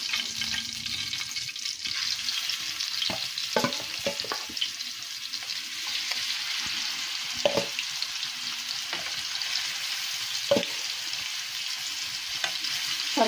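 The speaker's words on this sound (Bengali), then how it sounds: "বাকি মাংসগুলো আমি সব এভাবে ভেজে নেব।" Chicken pieces frying for a crispy chicken fry make a soft, continuous sizzle, broken by scattered clinks and scrapes of stirring at irregular intervals.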